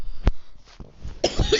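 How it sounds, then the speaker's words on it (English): A single sharp cough up close, followed by shorter throat noises and a rough, breathy clearing burst near the end. "I had to cough again."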